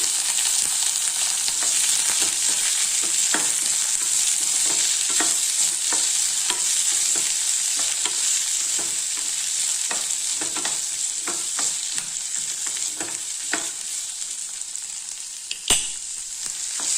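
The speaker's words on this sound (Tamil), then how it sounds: "வெங்காயம் போட்டு நல்லா வதக்கலாம்" Onions sautéing in a pan for groundnut chutney, with a constant bright sizzle and repeated spatula scrapes and taps at an uneven pace, close up and with no speech.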